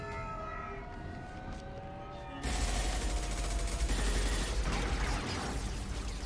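Gunfire erupts in a firefight with mercenaries in Mass Effect, a loud dense burst of rapid shots after a quieter stretch of tonal siren-like game sound, continuing steadily to the end.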